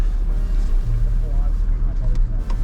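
A Toyota 79 Series LandCruiser's low engine rumbles steadily, with a couple of brief rises in pitch as it revs, close by amid wind and outdoor noise.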